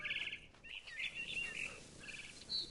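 A bird in the video game What Remains of Edith Finch chirps repeatedly in quick bright trills and short tweets, fairly close against a quiet ambient background, with no talking.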